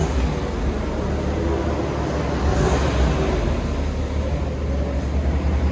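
Stock exhaust of a 2022 RAM 2500 Power Wagon with the 6.4-liter Hemi V8, a steady low, quiet idle rumble holding even throughout with no talking over it.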